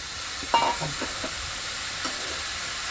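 Whole eggplants roasting directly in a hot pan give a steady broadband hiss and sizzle with a few faint clinks and stirring scrapes, near and fairly even.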